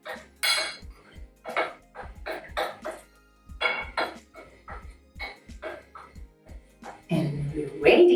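Salt is mixed into ingredients in a bowl for Scotch eggs, with light clinks and scraping of a utensil against the bowl, mostly under a person talking and louder near the end.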